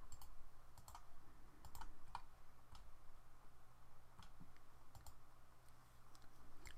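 Typing on a computer keyboard during an AutoCAD drawing session, scattered sharp key clicks in small bursts over a quiet steady hum, faint and close with no talk.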